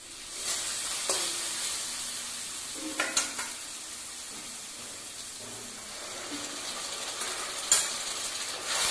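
Tomato paste with ground ginger and green chili frying in a pan for Bengali-style chicken kosha, a steady soft sizzle broken by a few scraping stirs, close and moderately loud with no one talking.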